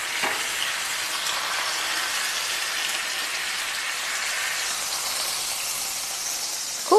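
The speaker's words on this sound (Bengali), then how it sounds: "এইভাবে প্যানটা ধরে আমি আস্তে আস্তে মাছটাকে একটু কাত করে ভেজে নেব, তাহলে গোটাটাই ভাজা হবে।" A coated pomfret fries in a pan and gives off a steady, even sizzle the whole way through, ending with a short clack as the pan is tilted.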